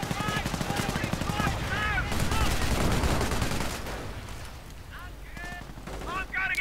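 In a multiplayer World War II strategy video game, a .30 caliber machine gun fires sustained rapid bursts under dense battle noise with other gunfire and explosions.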